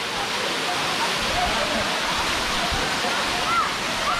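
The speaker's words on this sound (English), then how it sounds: "sit next to the waterfalls" A waterfall near Imlil roars in a constant, loud, close wash of rushing water, with faint chirps over the top.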